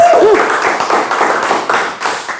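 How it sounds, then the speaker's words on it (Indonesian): Podcast guests in a studio applaud a classmate with a burst of close hand claps, loud at first and then trailing off into a scattered patter over two seconds. "Boleh tepuk tangan dulu buat Ajis"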